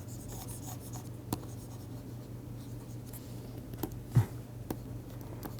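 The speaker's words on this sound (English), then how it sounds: "Let me write this" Chalk or marker scratching on a board during a mathematics lecture on the wave equation, faint and sparse, with a few light taps and strokes over a steady low room hum.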